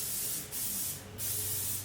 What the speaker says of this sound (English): We're going to spray our pans.